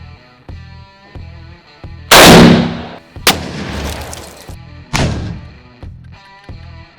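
A WW2-era rifle fires into a cinder block wall: three loud, sharp bangs spaced a second or two apart, each with a brief rattling decay, over a steady tonal background.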